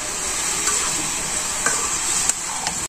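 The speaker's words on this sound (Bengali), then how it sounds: "ভালো করে আমি একটু ভাজা নেবো" Bottle gourd sizzles steadily in a hot pan, a bright continuous frying hiss with a few soft scrapes of stirring, close and without any talking.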